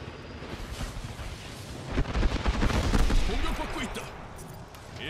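Video game gunfire crackles in dense bursts of shots with deeper booming blasts that swell in the middle and then ease off, with a voice faintly mixed in among the shooting.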